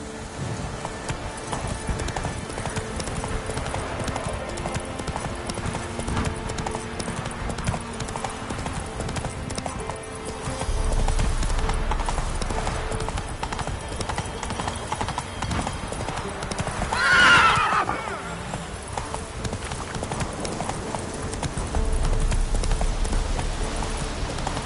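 A horse in The Witcher video game clip-clops along at a steady rhythmic gait for the whole stretch, with a brief whinny partway through and low rumbling underneath.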